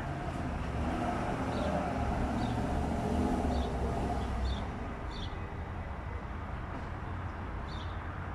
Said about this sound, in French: des voitures qui passent.